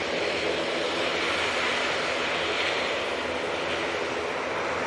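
A Ryanair airliner departing for Seville gives off a steady, moderately loud jet roar that stays constant over the few seconds, with no voices present.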